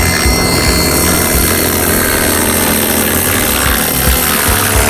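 An ALZRC Devil 380 radio-controlled helicopter coming in to land, its rotor and motor a steady, loud, close whirring drone that continues without a break.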